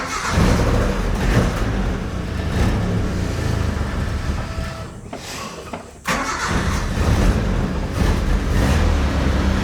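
A 1988 Suzuki Samurai engine turns over and catches, then runs with a rough, loud idle and brief revs, dropping out for a moment before carrying on.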